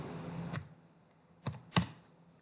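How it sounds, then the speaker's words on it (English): A few isolated key presses on a computer keyboard while drawing an ellipse in AutoCAD, heard as three separate clicks over about two seconds, the last the sharpest, in a quiet room with no talk. "I am just clicking on my keyboard"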